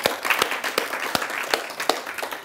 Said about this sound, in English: can we give this gentleman a huge round of applause?